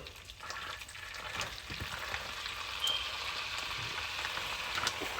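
A Cajun seafood etouffee base browns in a pan, giving a steady, dense close sizzle with a few soft stirring scrapes.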